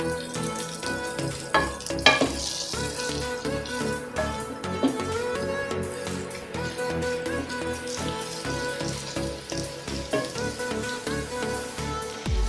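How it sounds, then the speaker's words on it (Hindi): Mixed vegetables for a sabzi pickle fry in hot oil, a dense, close crackling sizzle with irregular pops and stirring clatter running throughout. "करीबन 3-4 मिनट फ्राई करेंगे।"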